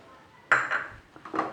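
Spoon clinks and scrapes against a pan as potato paratha filling with finely chopped green coriander is stirred, a few sharp metallic taps in quick succession, close and fairly clear with no talking.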